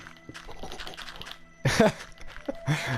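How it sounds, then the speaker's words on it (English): Game controller buttons click in quick, light bursts while playing Minecraft, close and fairly soft, with a few louder thumps and scattered taps across the stretch. "I do apologise if you hear my controller clicking like this"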